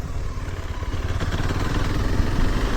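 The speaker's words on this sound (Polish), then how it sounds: "taka pogoda jeździmy sobie na motocyklu" A motorcycle engine rumbles steadily close by, a low continuous throb with rattling clatter over it and no talking.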